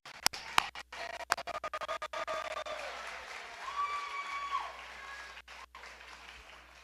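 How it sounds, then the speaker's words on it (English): Sustained audience applause at an adult education graduation ceremony, a dense steady round of clapping with a few sharp louder claps, fairly distant in a large hall and fading toward the end. "one round of applause to all of you up here."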